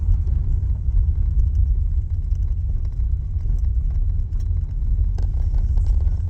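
A car drives steadily along a road while slowing to park before a rifle-season hunt, its low engine and tyre rumble continuous and close throughout, with no talk.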